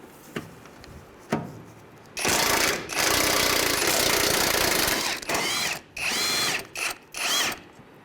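Power tool, likely an impact wrench, spinning off strut top nuts on a 2003-2011 Honda Element, with a few sharp clicks, then several close, loud bursts of whirring and hammering of varying length, separated by brief pauses.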